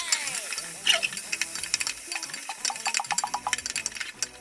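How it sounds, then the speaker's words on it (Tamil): Onion, tomato and chopped drumstick are tipped into a hot pan of sputtering curry leaves for sambar, bringing light sizzling, a few sharp clinks of a spoon and scattered crackles, with someone speaking briefly in between. "போடு வெங்காயம், தக்காளி, நறுக்கி வச்ச முருங்கைக்காய்"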